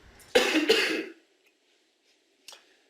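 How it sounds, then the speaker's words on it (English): Two quick, harsh coughs close together, followed by silence and a faint short throat sound. "Pardon my cough"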